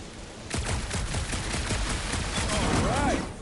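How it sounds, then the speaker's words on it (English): Rapid bursts of blaster gunfire aimed at a gunked-up reactor in the Guardians of the Galaxy video game, sharp repeated shots in quick succession over background action, closing with a swooping electronic whine. "A couple of shots should bring it down."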